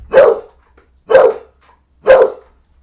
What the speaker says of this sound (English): the other just sitting there barking at the one with the bone